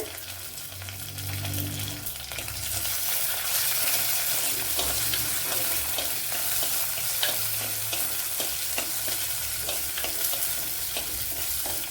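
Six or seven garlic cloves frying in hot oil in a pan for cauliflower curry give a steady close sizzle, with stirring scrapes throughout and no voices.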